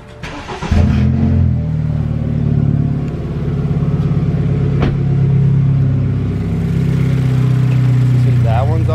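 A BMW F30 sedan's engine cranks and catches, then settles into a loud, steady idle rumble close by, with a brief click in the middle and the running engine continuing to the end.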